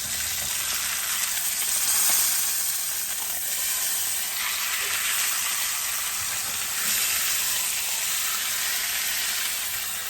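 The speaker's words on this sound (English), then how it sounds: "we're not cooking the meat, we're just browning it" Pot roast meat browning in a heavy cast iron skillet gives a steady, loud sizzle and hiss that holds evenly throughout with no talking.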